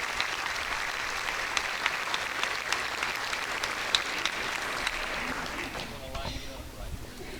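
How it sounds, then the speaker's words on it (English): An audience at a Lawrence County Schools banquet claps in sustained, dense applause that fills the room, then thins out and fades toward the end. "Let's give another round of applause to our 8th grade heroes."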